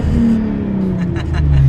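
A Hyundai Genesis Coupe 3.8 R-Spec V6 revs up close, its loud engine note holding steady and then rising, with brief background voices near the end.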